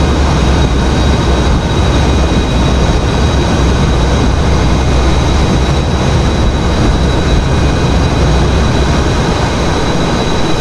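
F/A-18E jet engines at high thrust during takeoff in a flight simulator game, a loud, steady broadband roar with faint whining tones, constant and close throughout.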